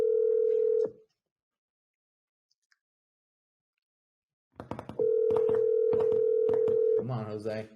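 Outgoing phone call to a contact: a steady ringback tone rings, falls silent for several seconds, then rings again, with talk and background noise over the second ring.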